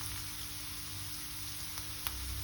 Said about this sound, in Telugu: 2 మినిట్స్ దాకా బాగా ఫ్రై చేసుకోండి.